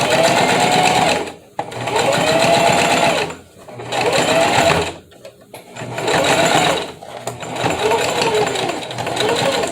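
A close sewing machine stitches thick layers of fabric for a face mask, running in four loud, steady bursts separated by brief pauses, with a rapid mechanical chatter throughout.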